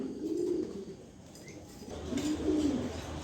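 A pair of pigeons, a male and a female, coo softly in low, throaty bursts, one early and another toward the end, against a faint background hum.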